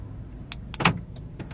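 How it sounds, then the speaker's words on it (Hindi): Central locking on a 2010 Honda Civic cycling while the car is running, giving a few quick mechanical clunks of the door locks over a steady engine hum. "सेंटर लॉकिंग भी चेक कर लेते हैं।"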